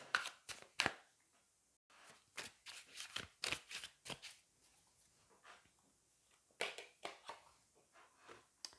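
Tarot cards are shuffled and handled in quick, soft papery bursts of riffling and slapping, close by, separated by brief pauses in an otherwise quiet room.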